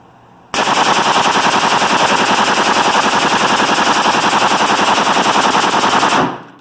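An AR-15 rifle with a Slide Fire bumpstock and 60-round drum magazine fires one long, loud, unbroken rapid-fire burst lasting about six seconds, then stops abruptly.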